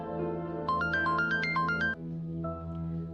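A mobile phone rings with an incoming call, playing a bright, rising melodic ringtone for about a second before it cuts off, over a steady low background hum.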